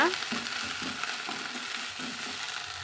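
Thuthuvalai leaves sauté in a hot pan, a steady close sizzle with soft rhythmic stirring scrapes, no voices.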